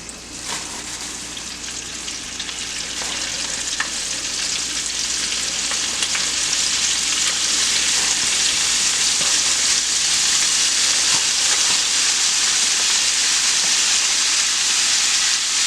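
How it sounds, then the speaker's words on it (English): Battered catfish and shrimp deep-fry in hot oil for Cajun fried seafood, giving a loud, steady, dense sizzle that builds slightly and holds constant throughout, with no talking. "You don't want to fry them too long"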